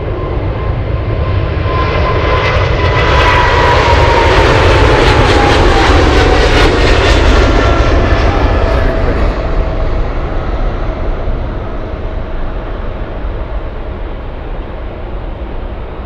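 A Korean Air cargo jet takes off at Anchorage airport, a loud, close roar of jet engines with a descending whine that swells, holds and then slowly fades as the aircraft climbs away.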